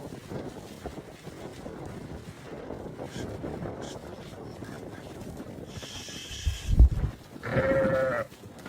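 A flock of sheep held for sale, with bleats rising over steady wind and outdoor rumble, a louder cluster of calls near the end, fairly close.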